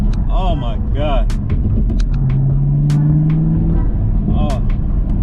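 A Corvette Z06 or Camaro ZL1 engine roars under hard acceleration in second gear, a loud steady rumble with a rising whine throughout, while people talk and exclaim over it.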